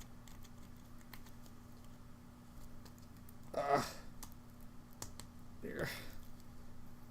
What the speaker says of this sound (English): Opening this stuff up. Oh no. My fingernails are going to fail me.